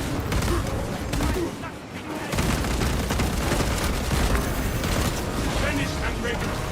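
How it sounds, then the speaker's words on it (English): In the Space Marine 2 video game, a frag grenade booms amid sustained heavy gunfire, a dense continuous roar of shots and blasts with no speech over it. "Sending frag grenade."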